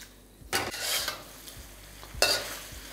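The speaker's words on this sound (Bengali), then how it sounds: "তাই একদম হাই ফ্লেমে এটাকে ভালো করে এইভাবে কুক করুন।" Kung pao chicken stir-fried in a pan over high flame: two bursts of sizzling and scraping as the pieces are stirred and tossed, with a soft steady hiss between them.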